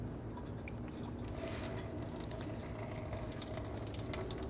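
Coolant from an Infiniti G37 drains steadily into a catch can, a continuous close trickle and splash of liquid with a faint dripping texture throughout, no voices.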